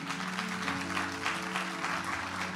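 Steady applause from a religious congregation, dense and continuous throughout, with faint cheering mixed in and music or a voice humming low underneath.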